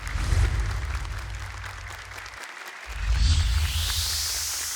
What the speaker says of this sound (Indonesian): Boleh tepuk tangan lebih meriah untuk mereka.